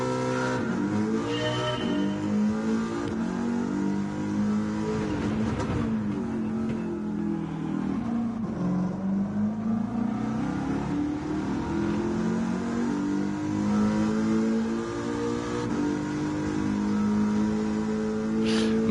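A Ford Mustang racing around the Laguna Seca circuit, its engine revving up and down through the gears as it dips and climbs, loud and close for the whole stretch, with occasional tire squeal and no voices.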